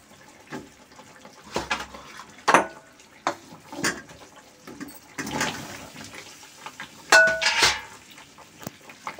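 Indian gooseberries tipped into hot sugar syrup in a pan for amla murabba, giving a series of light clattering knocks and soft watery splashes at irregular intervals, close and moderately quiet.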